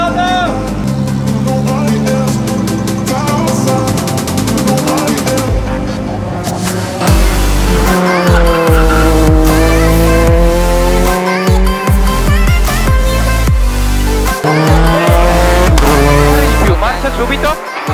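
A rally car is driven hard with revving engine and squealing tires in long screeching slides, loud and close, while voices talk over the noise.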